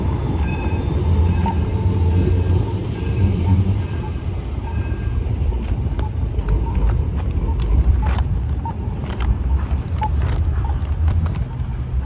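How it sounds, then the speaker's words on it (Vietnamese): An electric city train runs steadily close by, a continuous rumbling roll with repeated clicks and creaks from the wheels and cars, with faint voices underneath. "Đây là tàu điện chạy trong thành phố thôi"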